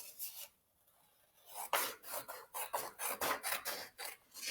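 Scissors cutting through a sheet of paper, a quiet snip followed by a run of rapid rasping cuts in a quick, even rhythm, close and fairly soft with no talking.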